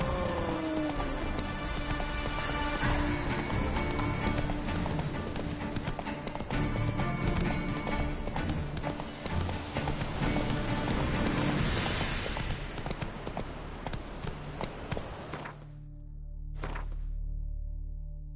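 Roach, a horse in The Witcher 3 video game, gallops with a steady, loud clip-clop of hooves under game music and rain, running for about fifteen seconds before the hoofbeats stop and a low rumble remains.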